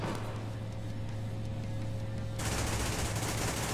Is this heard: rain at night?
no